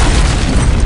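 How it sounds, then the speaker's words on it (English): A loud, booming explosion in the video game No One Lives Forever, a dense full-spectrum blast that fills the whole moment with heavy low rumble. "That's an explosion."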